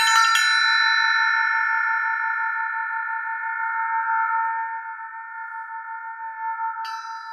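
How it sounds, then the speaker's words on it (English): An elephant bell is struck once and rings on, its clear tone and shimmering overtones slowly decaying with a gentle pulse, close and alone, with a faint second tap near the end. "Like here's a bell. I don't know why this is called an elephant bell"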